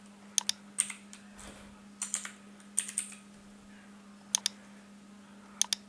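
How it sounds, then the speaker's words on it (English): Intermittent keyboard typing, bursts of sharp clicks separated by pauses, close and fairly quiet over a steady low hum. "this time I'm typing here"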